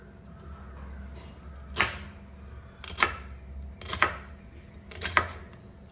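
A knife chops raw plantain into pieces on a board in a Kerala kitchen, with four sharp, separate cuts spaced about a second apart, close and fairly soft over a quiet background.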